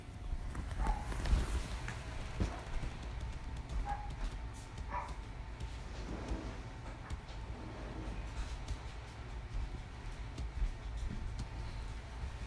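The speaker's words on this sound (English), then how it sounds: "I think I need to let my dog in" A dog barks a few times at moderate distance, single yaps spread out amid footsteps and a low steady background hum, with no talk.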